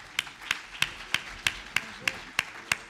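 At a round-table event, hands clap in a slow, steady beat, about three claps per second, crisp and fairly close, as a guest is welcomed.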